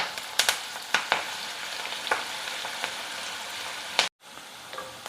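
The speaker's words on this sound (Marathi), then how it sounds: "कांदा आपल्याला ट्रान्सपरंट होईपर्यंत चांगला परतून घ्यायचा आहे." Chopped onion with curry leaves sautéing in a pan for pithla, a steady loud sizzle with scattered crackles and spatula scrapes, a brief dropout near the end, and no talking.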